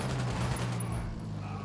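Dense burst of automatic gunfire from a Ghost Recon Wildlands firefight, a steady rattling fusillade running the full length at constant loudness with a low engine-like hum beneath.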